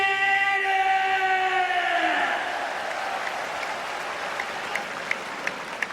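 Crowd applause in an arena at a PRIDE FC Middleweight Grand Prix event in 2003, a soft, distant clapping wash that continues after a tonal sound fades out, with a few sharper claps near the end.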